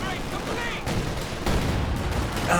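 Bursts of small-arms and cannon fire from a Company of Heroes 2 match, with a Jager unit force firing through a bush; dense overlapping shots and booms roll on continuously with a voice talking over them.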